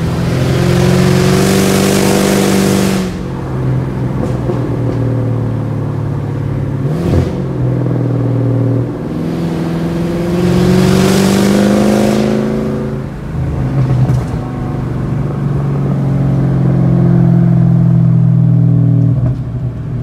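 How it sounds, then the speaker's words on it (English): A Cadillac CTS-V coupe engine with bolt-on modifications revs up repeatedly, rising and falling in loud surges with brief drops between, close by and alone. "I absolutely love the sound of this car."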